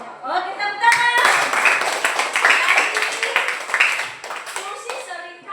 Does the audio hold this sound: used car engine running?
no